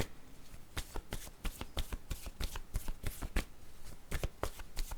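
A deck of cards is shuffled in quick, crisp bursts of riffling snaps. The sound is close and fairly loud, with no voice over it.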